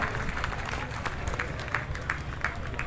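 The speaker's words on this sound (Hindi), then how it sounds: "जोरदार तालियों के साथ उत्साहवर्धन कीजिए सीआईडी हरियाणा की टीम का।" An audience applauds a police CID Haryana bomb disposal team after a successful IED defusal demonstration, giving fairly faint, steady clapping with sharper individual claps standing out over crowd murmur.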